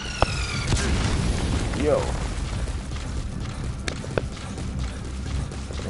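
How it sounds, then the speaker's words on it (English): A mortar strike in Metal Gear Solid V: The Phantom Pain lands as a deep, rumbling blast that settles into steady roaring noise with a couple of sharp pops. Someone briefly speaks over it. "The mortar strike."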